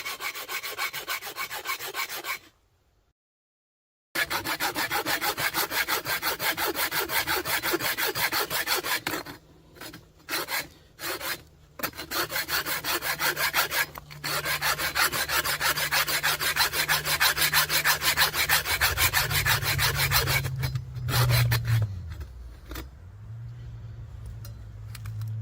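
A Mossy Oak handsaw cuts into steel with a continuous rasping, scraping rhythm of quick strokes. The sawing stops briefly several times, and a low hum rises near the end.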